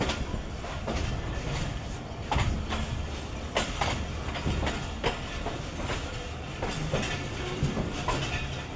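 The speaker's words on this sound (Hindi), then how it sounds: "पुरानी अवामी एक्सप्रेस पे आज सफ़र करते हैं" An old-coach Awam Express passenger train rolls along the rails out of Rawalpindi, heard from inside as a loud steady rumble with repeated clickety-clack wheel beats throughout.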